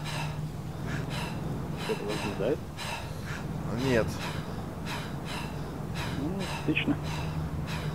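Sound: heavy breathing of characters in video game ARMA 3 DayZ mod

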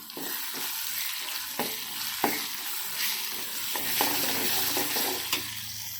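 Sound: stirring ginger garlic paste into drumstick tomato curry

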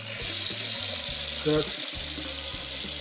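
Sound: water running from a sink tap

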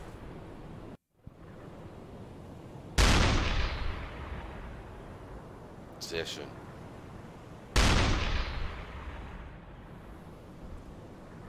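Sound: submarine deck gun firing in video game UBOAT

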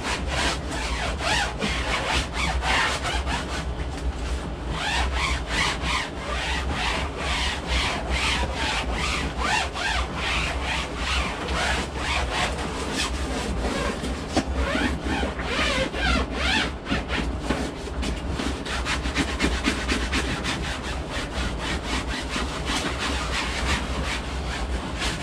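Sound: wiping mylar tent lining with a cloth

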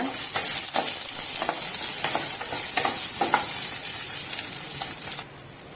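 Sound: stirring shallots into manathakkali keerai kootu

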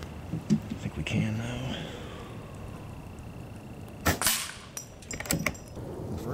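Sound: airgun shooting 18 grain JSB pellets at steel targets

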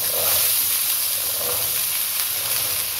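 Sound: black chickpeas added to spices frying in a pan

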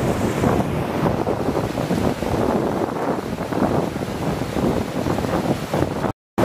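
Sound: waterfall

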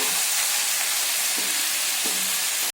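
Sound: mint leaves sautéing in a pan on medium flame

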